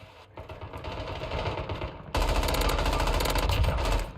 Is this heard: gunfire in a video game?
yes